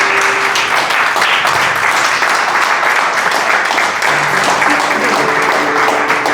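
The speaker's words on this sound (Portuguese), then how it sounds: "Fica de pé aplaudindo o nome do Senhor Jesus." A church congregation at a Wednesday evening worship service stands and applauds, loud and continuous clapping filling the room, with faint sustained tones from instruments or voices running underneath.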